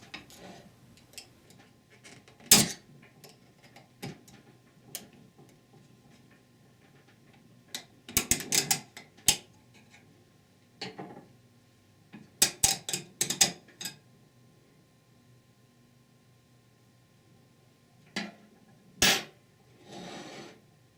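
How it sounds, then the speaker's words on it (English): A small screwdriver works a snap ring off a Ford E4OD transmission forward drum, quiet metallic ticks and scrapes coming in scattered bursts with short clicking clusters and pauses between them, close up and faint. "Use a small screwdriver to remove this snap ring."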